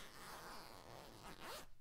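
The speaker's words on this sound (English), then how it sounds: "And this zipper does go down a little bit further than the last dress." A zipper on a 1960s dress slides in one long, close, continuous run, rasping softly, then stops abruptly near the end with no talk over it.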